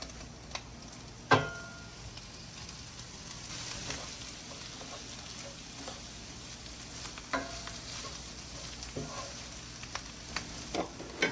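Meat and vegetables fry with butter and egg in a pan at a hog-cooking camp, giving a steady low sizzle with occasional sharp clicks and scrapes of a utensil stirring, close and moderately loud, no talking.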